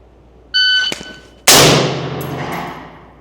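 Shot timer at a practical shooting range gives a sharp electronic beep, followed about a second later by a loud gunshot that rings and decays, with a faint tonal chirp after.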